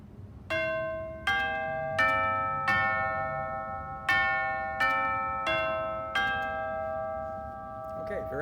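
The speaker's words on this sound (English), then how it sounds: "I'm going to demonstrate the chimes" Tuned chimes struck one at a time, about seven ringing notes each left to decay, standing in for church bells in a radio play; clear and fairly close with a quiet room behind.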